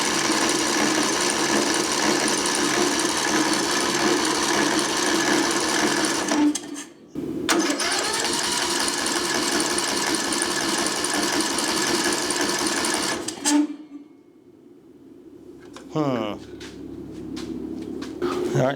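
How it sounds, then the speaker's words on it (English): Trashed Craftsman riding lawn mower engine cranking over on the starter, a loud rapid rhythmic churning that stops, resumes, then cuts out, with brief clatter near the end. "Actually, let's crank it over first."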